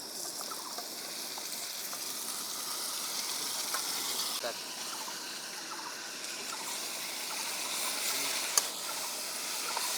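Diced ash gourd and potatoes frying in spices in a pan, giving a steady, bright sizzle and hiss that holds evenly throughout, with a soft voice speaking over the cooking.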